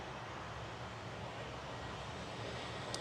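An easyJet airliner engine starts up at Manchester Airport as a faint, distant, steady roar against an open outdoor background.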